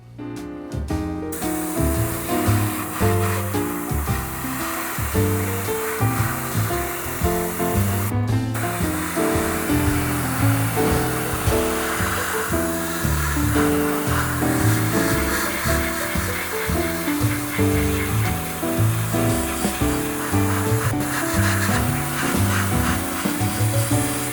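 A spray of paint lays down the first coat on scratch-built, 3D-printed model train coaches, a continuous loud hiss running under music with a brief pause near the start.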